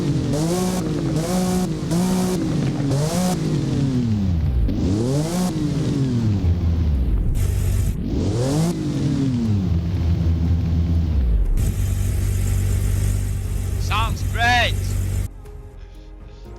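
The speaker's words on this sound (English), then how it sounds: "By the way, this is how the GT3 RS sounds." Porsche 911 GT3 RS engine in the Roblox Driving Empire racing game, loud and close, revving up and down through repeated rising sweeps before cutting to a steadier drone and then a quieter idle.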